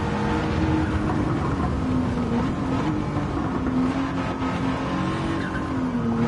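A race car in Gran Turismo 7 brakes hard, its engine note droning steadily while tires squeal and skid continuously at close, even volume.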